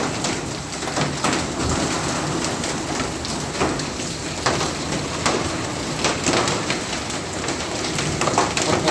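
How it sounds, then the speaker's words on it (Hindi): Heavy hailstorm in Lahore with large hailstones, a dense steady hiss of falling ice and rain hammering surfaces close by, with sharper impacts scattered through and faint birds in the background. "इस वक्त फुल जो है ओले पड़ रहे हैं।"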